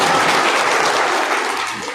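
Dense, steady applause from a crowd at an election campaign rally, continuous and loud throughout before easing slightly at the end.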